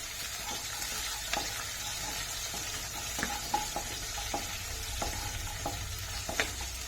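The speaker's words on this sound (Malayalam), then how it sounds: "ഇത് നല്ലോണം ഒന്ന് വഴറ്റുക." Ingredients for watermelon pickle sauté in a hot pan, with a continuous close sizzle and repeated sharp scrapes and taps of a spoon stirring against the pan.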